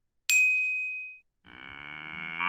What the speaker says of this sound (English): I heard a bell and a moo